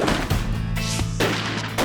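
Birdshot shotgun blast fired from 10 feet into a stack of three pizza boxes, with a loud sharp report and ringing echo, followed by repeated booming impacts and reverberation over a steady low rumble.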